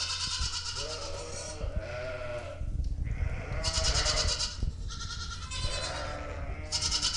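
Goats bleat repeatedly in a stable, several loud, wavering calls close by overlapping one another amid shuffling and background barn noise.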